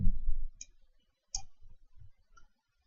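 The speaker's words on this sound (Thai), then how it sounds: "คลิกขวา" A computer mouse gives a few crisp, isolated right-click ticks, close and quiet, spaced apart with soft handling noise between them.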